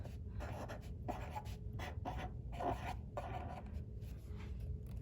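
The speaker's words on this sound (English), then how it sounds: "So we're going to write bushes." A pencil writing the word bushes by hand, a soft scratchy stroking in short bursts with brief pauses between strokes, close and quiet, with no talk.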